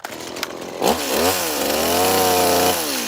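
A chainsaw starts with a few sputters, then revs up and runs steadily as it carves into a wooden post, loud and close.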